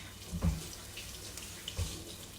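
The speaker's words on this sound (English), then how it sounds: "Let me wash my hands." Hands are washed under a running kitchen tap during meal prep, a soft, steady water rush with a couple of low splashes and thumps, heard close and fairly quiet.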